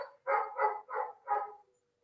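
A dog barks four times in a quick, even series. The barks are fairly close and stand alone against an otherwise quiet background.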